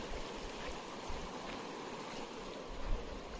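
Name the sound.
river water flowing at a swimming spot in the jungle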